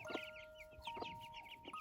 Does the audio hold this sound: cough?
no